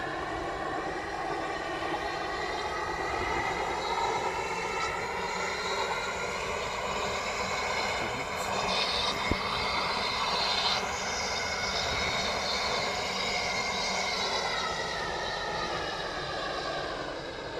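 A train in the Roblox game Stepford County Railway pulls into Stepford UFC station, a steady, fairly loud mechanical drone with layered rumbling tones that swells slightly midway and then holds, with no talking.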